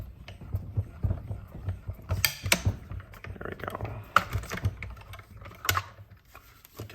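A small die cutting machine cranks paper through to cut out circles, giving irregular close clicks, knocks and rattles of moderate loudness with brief pauses between them.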